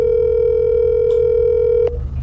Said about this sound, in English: I think I hear the phone ring.